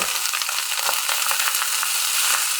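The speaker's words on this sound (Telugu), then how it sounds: "చక్కగా ఫ్రై అవుతుంది" Fried rice with eggs and prawns fries in a pan on high heat, sizzling steadily and closely, with bright crackling throughout and occasional scraping stirs.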